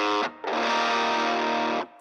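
Heavily distorted electric guitar chords: a short strummed hit, a brief cut, then a loud sustained chord ringing for over a second before stopping abruptly.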